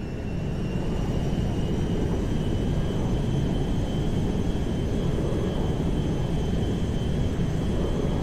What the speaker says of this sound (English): There's been a change of personnel and destination on the Meriwether jet. We are now landing at Mackenzie Field.